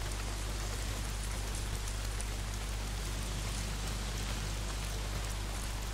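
Heavy rain pours steadily in the video game Days Gone, a dense, loud, continuous hiss of drops on surfaces with a low rumbling undertone and no pauses.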